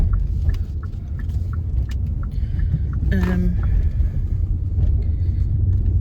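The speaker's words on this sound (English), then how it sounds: "So much traffic, it's just that time of day." Road traffic rumbles in a continuous low, loud drone during a busy time of day, with passing cars and a brief higher tonal sound midway, heard from inside or near a vehicle.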